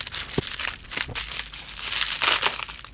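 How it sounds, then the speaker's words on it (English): Plastic packaging on a cross stitch kit crinkles and crunches as scissors cut it open, with close, irregular snips and rustles over a few seconds and no speech. "Let's see if we can get it cut open."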